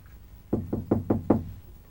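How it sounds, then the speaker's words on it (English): Five firm knocks on a door in a Jamaican comedy scene, evenly spaced and close, each a hollow wooden thud, standing alone without talk. "Then knock louder now."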